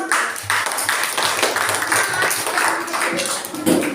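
Children in an elementary classroom clap their hands at the end of an ecosystem lesson, a busy, uneven patter of many small hands at moderate loudness, with faint voices underneath.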